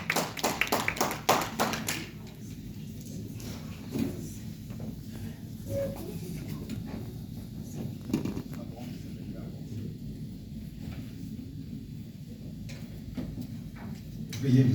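Church congregation clapping hands during a worship service, a burst of sharp close claps at the start giving way to lighter scattered clapping and murmuring, with a final flurry at the end.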